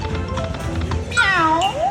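Cartoon cat meow from a slot machine video game, a single rising-and-falling electronic meow ringing out clearly over the machine's steady background tones and jingles.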